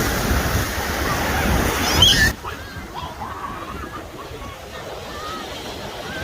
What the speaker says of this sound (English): these waves coming faster and faster